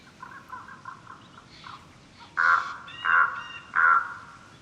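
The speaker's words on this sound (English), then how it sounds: "if you hear this bird on DayZ, you've got players" A crow in the video game DayZ, a few faint chattering calls at first, then three loud, harsh caws spaced about a second apart, with no talk.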